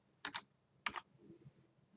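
A few quick computer keyboard keystrokes in two short bursts, close and quiet in an otherwise still room, as a value is typed into oscilloscope software.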